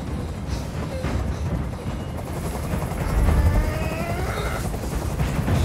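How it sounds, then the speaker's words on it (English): A helicopter in the video game Detroit: Become Human thrums steadily and loudly overhead, a dense rumbling wash that swells slightly partway through with no voices over it. "I can't stand that noise anymore. Tell that helicopter to get out of here."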